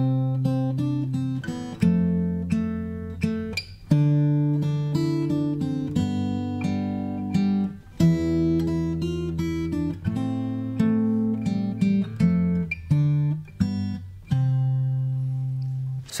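Fingerstyle guitar plays "We Wish You a Merry Christmas" as bass notes under a plucked melody, a clear, close run of steady, rhythmic phrases with no talking.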